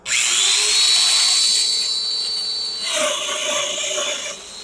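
A Festool-style domino joiner cutting mortises in wood: a loud steady whine that holds for about three seconds, then a rougher cutting phase with grinding texture as the bit plunges into the workpiece.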